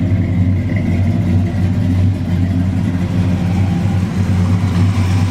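A Chevrolet Super Cheyenne C10 pickup's 350 V8 runs close by with a steady, lumpy low rumble and slight rises in revs, heard alone without talk.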